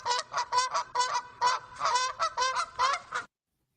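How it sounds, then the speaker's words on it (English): Geese honk in a rapid series of about a dozen close, loud, nasal calls in an uneven rhythm, ending abruptly in silence. "I got geese!"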